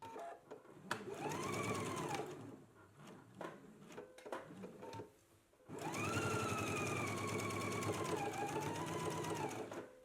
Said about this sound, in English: So let's go ahead and do ease stitching from this large dot here, pivot, and then stop at your double notches.